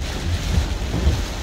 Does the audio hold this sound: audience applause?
no